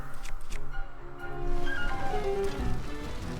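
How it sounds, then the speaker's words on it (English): Steady rain in the video game The Legend of Zelda: Tears of the Kingdom patters and hisses over a low background drone, with faint tonal tones drifting in and out and no one speaking. "And it's raining"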